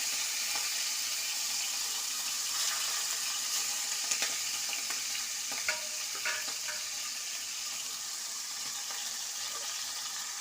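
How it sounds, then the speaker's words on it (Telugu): A quarter kilo of ground keema hits hot oil in a pan and sizzles steadily, a close, even crackling hiss with occasional louder pops and stirring scrapes, no voices. "ఈ కైమాని ఆయిల్లో వేస్తున్నాను"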